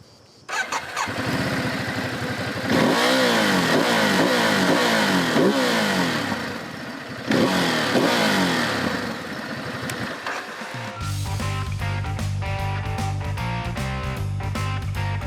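A 2022 Ducati Desert X motorcycle engine cranks and fires, then revs in several loud, close bursts and settles into a throbbing idle.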